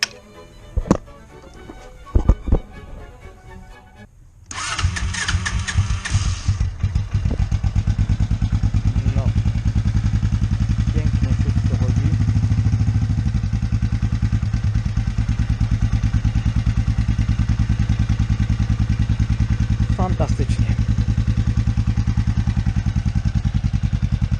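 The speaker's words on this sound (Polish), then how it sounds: "Motorek pali, że ho, ho." Motorcycle engine cranks and catches after clicks and clatter from an ignition switch replacement, then settles into a loud, steady idle that runs close and continuous.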